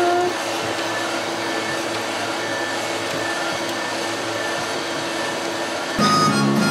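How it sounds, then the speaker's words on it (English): A DTF 1000 direct-to-film printer runs a custom shirt transfer, giving a steady, loud mechanical whir and hum throughout, with a brief shift in tone near the end. "now we're just gonna go ahead and get to printing"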